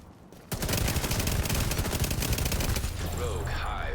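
In The Division 2, an assault rifle fires long rapid automatic bursts, loud and close, after a brief quiet start, with electronic game effects rising near the end.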